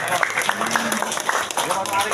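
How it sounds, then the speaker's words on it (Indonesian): An audience at an Indonesian graduation and class promotion ceremony in 2023 claps, with scattered hand claps rising under a voice speaking over the applause. "Tepuk tangan."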